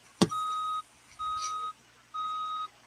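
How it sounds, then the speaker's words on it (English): A semi truck in the BeamNG.drive video game sounds three evenly spaced electronic reversing beeps, each about half a second long and clear, after a brief sharp knock at the start. "they do that beeping sound effect that they would in real life when you put them in reverse"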